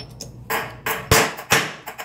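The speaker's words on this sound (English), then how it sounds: "you'll make sure as you hammer that you work on the sides as well, not just the middle of the dome" A hammer strikes a metal dome while it is being shaped, giving five or six sharp, close blows in an irregular rhythm, each with a bright, brief ring, alone without talk.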